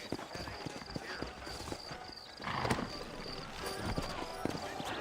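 Hooves clopping on ground as horses walk in Red Dead Redemption, set in New Orleans, with a whinny and steady uneven footfalls under ambient game sound and voices.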